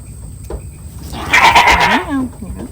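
A goat lets out a loud, wavering bleat close by, followed by a shorter cry, with faint background noise.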